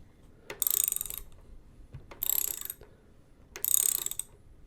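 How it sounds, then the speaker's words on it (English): An 18 mm socket wrench ratchets while tightening the suspension spring on a Veteran motorcycle, three separate bursts of rapid close clicking with short quiet pauses between them. "So we've got our 18 millimeter socket wrench, and we're going to begin tightening this."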